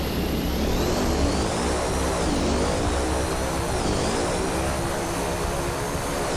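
Simulated Quest Kodiak propeller plane taxiing, a loud continuous turboprop drone with a steady whine and slowly shifting tones, unbroken throughout with no talk.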